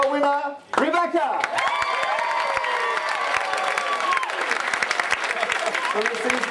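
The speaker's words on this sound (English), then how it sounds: "Coming up with a huge round of applause for our winner," Loud audience applause with cheering and whoops at a comedy competition for the North's best new stand-up comedian, greeting the winner; steady dense clapping fills the whole stretch after a brief opening.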